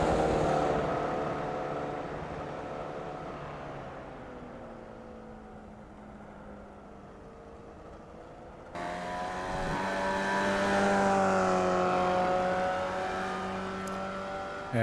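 A Formula Vee race car engine drones steadily through a lap of Tsukuba in the iRacing sim, the pitch sinking on deceleration and then rising again under acceleration, loud and continuous.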